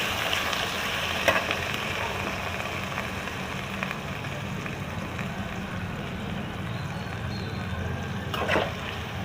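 Finely grated onion dropped into hot oil for chicken masala, frying with a loud, continuous crackling sizzle and occasional clinks of a utensil against the pan, no talking.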